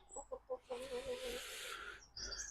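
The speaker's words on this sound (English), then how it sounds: "Got one chicken up here," A chicken gives a run of faint, rhythmic clucks at some distance. A longer squawking call follows, then a few more scattered clucks in a quiet outdoor setting.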